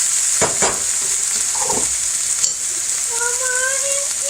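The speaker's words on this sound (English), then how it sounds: "Heating the rest of this through. Making sure all the meat is cooked. Heating the broccoli through." Meat and broccoli heat through in a pan on the stove, giving a steady, close sizzle and fry hiss. A few stirring scrapes come early, and faint tonal whines rise near the end.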